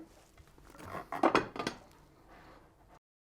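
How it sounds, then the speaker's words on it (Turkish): A metal cake pan is flipped over onto a larger pan, making a short, close clatter of metal on metal that peaks in a couple of quick knocks, then settles into faint scraping. "Daha büyük bir tava üzerine kapatalım ve ters çevirelim."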